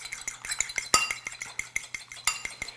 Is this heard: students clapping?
no